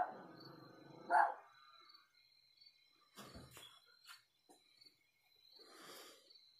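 A single short dog bark near the start, followed by faint scattered noises over a quiet background with a steady insect-like chirp.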